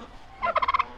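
A farm turkey gobbles in a quick rippling burst of about five rapid pulses, close and loud, with quiet surroundings before it.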